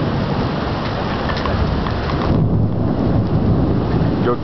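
Steady, loud rain pours through a Miami thunderstorm in classic Florida summer weather, with low thunder rumbling beneath the downpour and swelling briefly near the middle; no one speaks.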